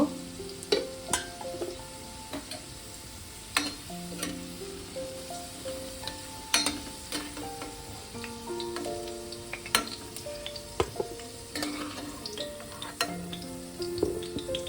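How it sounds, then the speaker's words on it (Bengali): Potatoes fry in a pan for a mushroom curry while being stirred, a soft steady sizzle broken by sharp clicks and scrapes of the spatula against the pan, fairly close and quiet, with no talking. "আলুগুলো আমি মিনিট 2-3 নেড়ে ভালো করে ভেজে নিয়েছি।"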